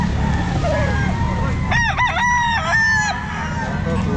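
Roosters crow loudly and nearby among clucking chickens at a pet market, one clear crow cutting through a constant background hum of the busy market.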